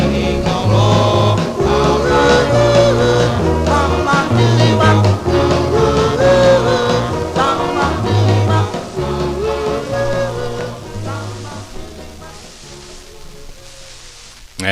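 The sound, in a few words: 1958 vinyl record, surface noise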